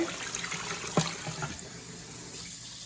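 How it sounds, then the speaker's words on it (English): Water poured into a Bella electric pressure cooker pot, a continuous close splashing stream with a brief louder gush near the start, then a steady pour, no talking. "So we're gonna add the water."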